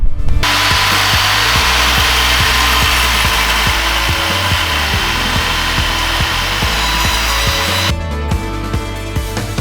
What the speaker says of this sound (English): So it's a circular saw with a track, which will come along and cut the angle